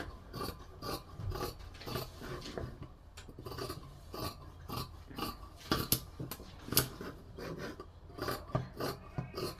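Scissors cut through blouse fabric along a chalk line, with repeated crisp snips and rasping slides of the blades in an uneven rhythm, close and fairly quiet.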